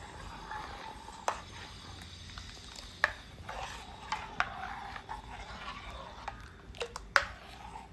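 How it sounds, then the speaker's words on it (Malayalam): A spoon stirs ground karayila (Canthium coromandelicum) leaf paste in a pot, giving a faint continuous wet scraping with scattered light clicks and taps against the metal. "ഇത് നല്ലപോലെ ഇളക്കി കൊടുക്കണം."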